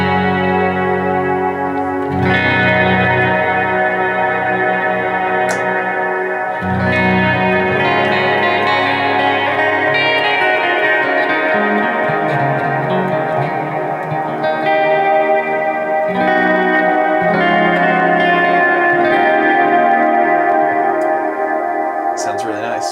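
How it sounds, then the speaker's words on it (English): An electric guitar runs through a Strymon BigSky pedal on its hall reverb, with long decay and modulation pushed up. Sustained chords ring into a lush, shimmering, wide wash with no gaps, each new strum blooming over the lingering tail. "And the hall reverb has a bit more tone shaping control."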